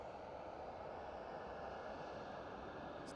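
An Airbus A321neo airliner climbing after takeoff from Schiphol Amsterdam, a faint, distant steady roar of jet engines holding level without voices.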